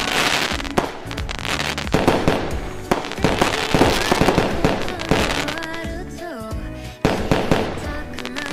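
Dense fireworks at a festival in Sakura School Simulator: rapid crackling bursts and booms fill the scene, with a few sharp pops standing out, loud and continuous, layered over game music.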